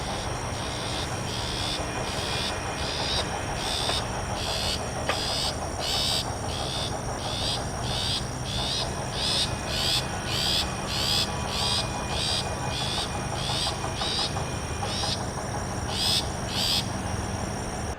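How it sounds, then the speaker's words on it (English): A long-tailed shrike gives loud, evenly repeated high calls in a steady rhythm over a constant insect drone, continuing through the whole stretch with no talking. "this call it was making, because they're quite loud for a small bird. But I found this bird, and it was a long-tailed shrike"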